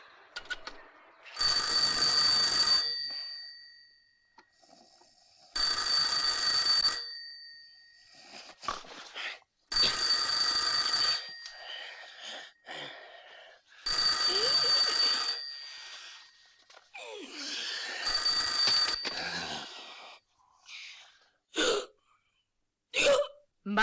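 An unanswered telephone rings indoors in five long bright bursts separated by short pauses, followed by a few brief clicks and sounds as the ringing stops.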